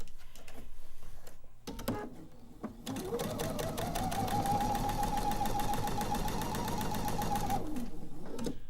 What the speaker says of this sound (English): let's sew this seam. This time I'm going to sew all the way to the end.